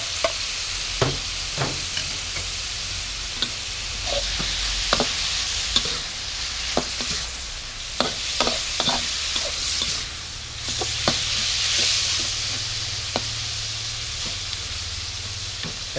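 Ingredients for Hokkien noodles, including shiitake mushrooms, dried squid and shrimp, sizzle as they are stir-fried in a pan, with steady frying hiss and repeated close scrapes and clacks of a utensil stirring.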